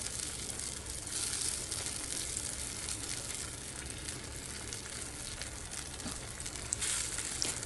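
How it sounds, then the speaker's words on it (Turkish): Tomatoes bubbling in a pan on the stove for menemen, a steady broadband simmer and sizzle holding at an even level throughout, close and continuous with no voices. "Domatesler kaynamaya başladı."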